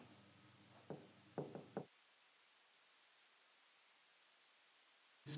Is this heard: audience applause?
no